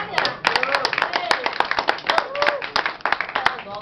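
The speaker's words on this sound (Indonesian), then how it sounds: "Boleh tepuk tangan ya." An audience claps loudly and rhythmically for a band at a studio performance, sharp close hand claps running throughout with a voice and some cheering over them.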